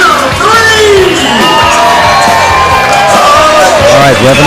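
Rodeo crowd at the Logan County Fairgrounds in Sterling, Colorado, cheering, whooping and shouting loudly and continuously, many voices layered close together with children's yells rising above the roar.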